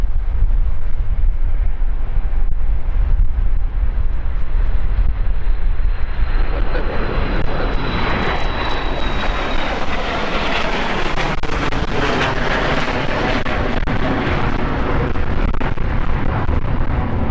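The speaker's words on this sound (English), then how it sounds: "Inbound as well is our first -8 of the day. Lux Air." A Luxair Dash 8 turboprop arriving at London City, its engine noise building from a low rumble into a loud, rough, wind-buffeted roar with a falling whine, continuing strongly to the end.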